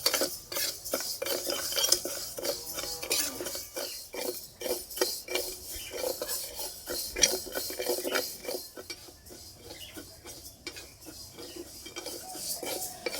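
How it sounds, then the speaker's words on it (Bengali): Mung dal is dry-roasted in a wok and stirred continuously, producing a steady, soft rasping scrape of a utensil against the metal with occasional light clinks; quiet and close, with no talking. "মুগের ডালটাকে হালকা করে ভেজে নেব যাতে ডালের কাঁচা গন্ধটা চলে যায়।"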